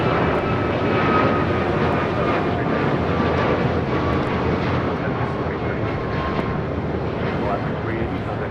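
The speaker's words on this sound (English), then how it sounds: "This is Alaska Airlines 380 taking off to Fort Lauderdale on a MAX 9." An Alaska Airlines Boeing 737 MAX 9 takes off at LAX, its engines a steady broad roar heard from a distance that fills the whole stretch without letting up.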